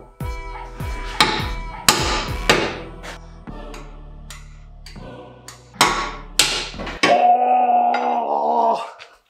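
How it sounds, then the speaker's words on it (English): Hammer blows knocking a metal ring out of a differential bushing on a Nissan 370Z, a series of loud, sharp metallic strikes in uneven bursts, followed by a sustained tonal ringing hum near the end. "Now we have to smack the metal ring out"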